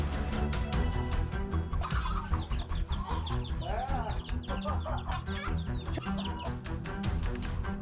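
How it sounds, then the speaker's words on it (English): A mother hen clucks and squawks while fighting a hawk, her agitated calls rising over a dense, loud bed of music that runs throughout. "The mother hen continuously pecked and kicked at the hawk"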